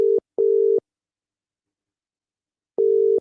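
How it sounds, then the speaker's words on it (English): A phone line's repeating busy or unavailable tone on a call that won't ring through, steady beeps broken by pauses and heard alone. "it's calling, but it's not ringing, so can't get through to Guy."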